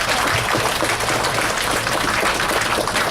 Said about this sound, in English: give yourselves a round of applause for all the hard work you guys do